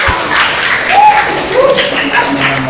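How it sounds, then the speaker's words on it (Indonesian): Applause for group 2 during a teacher-training classroom session: a steady broadband wash of clapping from a small audience, holding throughout the short stretch with faint voices murmuring underneath. "Beri aplaus untuk kelompok 2."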